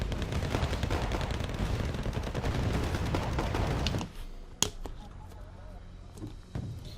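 Rocket artillery salvo in the Wargame Red Dragon video game: a dense, continuous roar of rapid launches and blasts for several seconds, then it cuts off into scattered sharp cracks and distant impacts.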